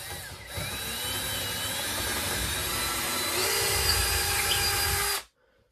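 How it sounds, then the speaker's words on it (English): A jigsaw cuts through a house wall for a wood stove chimney at an off-grid property, a loud, steady buzzing whine held close for about five seconds before stopping abruptly. "Then I'll run the jigsaw up both sides and across."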